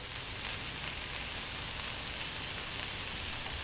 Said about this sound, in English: veggies that's sauteing in the biggest pan